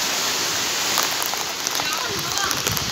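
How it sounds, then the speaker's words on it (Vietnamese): Rain pours down in a rural Vietnamese garden: a dense, even hiss of falling water with scattered drops close by, and people talking briefly over it. "Mưa tới mịt mù rồi đường hái không mưa."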